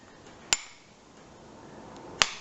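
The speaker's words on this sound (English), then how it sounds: "you give the nut a sharp blow, but a soft blow" A single sharp hammer blow strikes the nut on a high tension flick magneto to free it from its taper, then a second clear metallic tap follows about two seconds later, both crisp and close against a quiet background.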